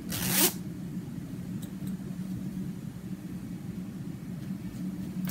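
A zipper on a tall crochet project bag zips once sharply at the start, a quick close rasp, followed by a quiet steady room hum for several seconds.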